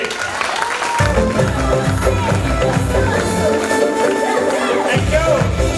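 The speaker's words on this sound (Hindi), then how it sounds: "हमारे श्याम सर के लिए जोरदार तालियां होनी चाहिए" Audience applause at a Safe Shop speech event in Lucknow, a loud, dense wash of clapping that runs continuously for several seconds, mixed with music and crowd noise.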